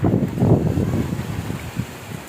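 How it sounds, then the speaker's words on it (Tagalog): Strong gusting typhoon wind buffets the microphone in a loud, continuous low rumble that surges and eases, with a watery, wave-like wash underneath. "So malakas-lakas yung bagyo ngayon."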